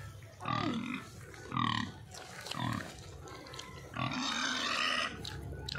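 A pig grunts repeatedly up close, a series of short, deep, snorting grunts with brief pauses between them.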